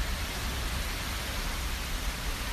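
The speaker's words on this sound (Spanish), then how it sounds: "Cuando llueve y te puedes resguardar del frío," Steady rain falling outside on a street, a continuous even hiss with low rumble, heard alone without talk.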